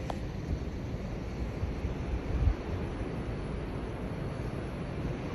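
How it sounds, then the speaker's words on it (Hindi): Wind blows outdoors in the early morning, a steady low rushing roar buffeting the microphone with a brief gust midway and no voices. "हवा चल रही है।"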